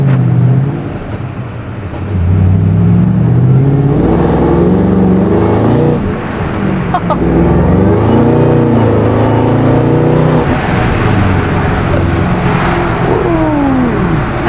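A 2014 Shelby GT500 with a large body kit accelerates hard, its engine loud and close, rising through rev sweeps with gear changes and a sustained roar.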